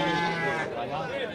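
Goats bleat at a livestock market where female goats are on sale, a sustained wavering animal cry close by with talk going on in the background.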